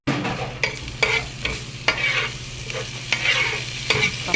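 Garlic fries in butter in a pan, a steady close sizzle punctuated by regular sharp spatula scrapes and taps as it is stirred, with no talking.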